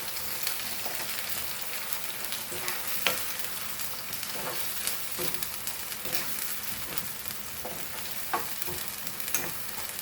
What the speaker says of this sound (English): Now I will add this ground masala in this. And along with it I want to fry it.